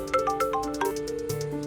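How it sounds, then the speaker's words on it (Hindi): A melodic electronic phone ringtone plays, a repeating pattern of tonal chimes, steady and fairly close, with no voices. "विवान प्लीज फोन उठाओ"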